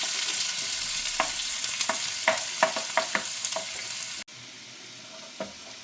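Sliced onions with curry leaves sauté in a pan, giving a steady, loud sizzle broken by sharp scraping strokes of a spoon stirring, then a sudden drop to a quieter fry.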